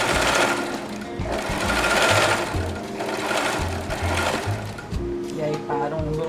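A sewing machine runs a seam down the middle of fabric for elastic, its steady rapid mechanical stitching close and loud, pausing briefly between runs, with a voice talking over it.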